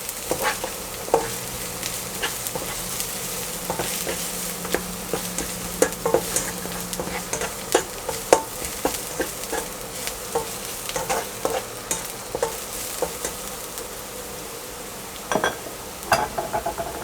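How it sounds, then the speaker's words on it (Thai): Ground pork and aromatics for old-style pork rice porridge stir-fry in a pan with a constant sizzling hiss, punctuated by frequent quick scrapes and clinks of a spatula against the metal, steady throughout. "ผัดจนหอมเลยนะครับ"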